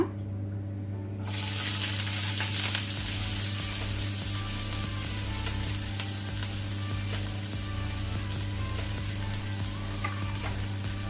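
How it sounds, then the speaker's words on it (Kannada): Onions drop into three to four tablespoons of hot oil for a garlic egg curry, and a loud, close sizzle bursts in abruptly after a near-silent second, then holds as a dense, steady hiss with faint stirring. "ಈಗ ನಾವು ಈರುಳ್ಳಿ ಹಾಕೋಣ."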